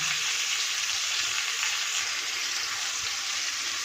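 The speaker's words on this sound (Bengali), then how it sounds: "কিছুটা আলু লাল লাল করে আগে ভেজে রেখে দিই" Potato pieces frying in hot oil for a vegetarian aloo dum, a loud, steady, close sizzle that hisses evenly throughout without any speech.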